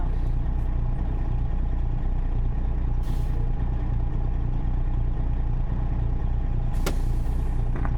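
Truck in a driving simulator game idling with a steady low engine drone, then a short sharp air brake hiss near the end, with a fainter burst of air earlier.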